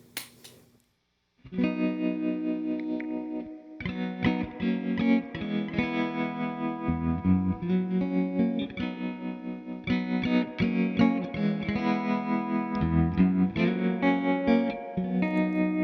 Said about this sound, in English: as you can hear, the volume is modulating up and down. And that's all a tremolo does.